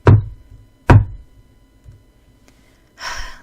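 Two loud, forceful knocks on a wooden door, close and hard-edged, followed by a faint thump, a small tap, and then a breathy rushing sound.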